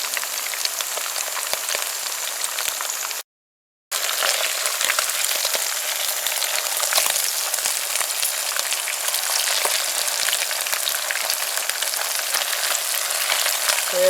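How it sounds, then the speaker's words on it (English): Netly fish frying in oil for a dal-and-rice meal, a steady loud dense sizzle and crackle that runs continuously apart from a brief silent gap near the start. "So these have to be fried a little brown, guys"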